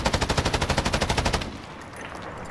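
An M249 SAW light machine gun in Call of Duty: Modern Warfare, fired from a crouch: a rapid, evenly spaced burst of about fifteen loud shots that stops abruptly, followed by a fading echo.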